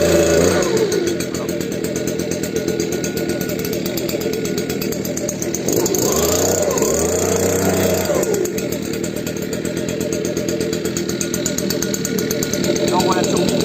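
A Stihl petrol power tool with a cold engine, started on choke, runs with a steady, loud mechanical drone throughout, and a voice talks over it partway through.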